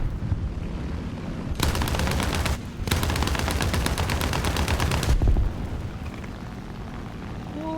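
Aircraft cannon fire in War Thunder, with long loud sustained bursts of rapid shots from the plane's guns, broken by a short pause and then quieter engine drone.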